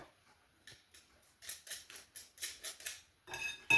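Fresh ginger is grated in a kitchen with a steady series of quick, raspy strokes across the grater, clear and close with no talk.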